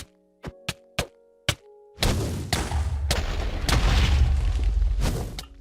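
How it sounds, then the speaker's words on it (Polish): Explosions in the video game Minecraft: a few sharp, separate bangs, then a dense, continuous roar of blasts that stays loud and close to the end, with no talk. "Ale coś wybucha dookoła."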